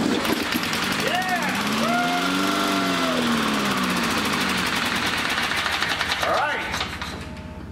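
A Briggs lawn mower engine fitted with a 62-year-old spark plug runs with a buzzing, sputtering drone that rises and falls in pitch, then fades near the end, while people cheer over it.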